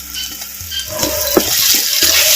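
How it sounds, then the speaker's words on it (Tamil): Ginger garlic paste sautéing in oil with browned onions for mutton leg paya: loud, close frying sizzle with busy stirring and scraping strokes throughout, no talk. "சேர்த்த இஞ்சி பூண்டு விழுதுகளை நம்ம பேரன் பாணியில் அப்படியே வதக்கு வதக்கு நல்லா வதக்கி பச்சை வாடை போகிற அளவுக்கு"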